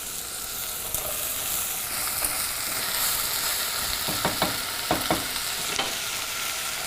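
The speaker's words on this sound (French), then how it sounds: "un petit peu d'huile d'olive et je fais revenir mon poireau" Leek sautéing in olive oil in a pan, a steady bright sizzle and hiss held throughout at close range, broken by a few light scrapes of stirring.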